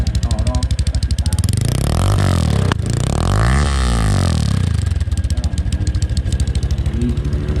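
A motorcycle engine idling up close with a steady, lumpy thump, briefly rising in a rev before settling back to its loping idle.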